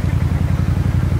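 A 2001 Suzuki Intruder VS1400 cruiser engine pulls under throttle on a South Texas road, a loud, low, pulsing rumble with a steady rapid beat and no talking.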